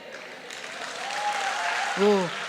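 A live audience claps through the whole stretch at a comedic sermon talk, steady moderate applause from a crowd, with a voice rising briefly over it near the end.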